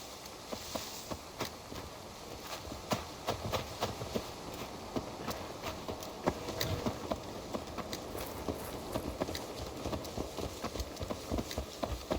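Horse hooves clip-clop at a walking pace in the Assassin's Creed Valhalla video game, a quiet, steady run of soft thuds over a faint background hum with no talking.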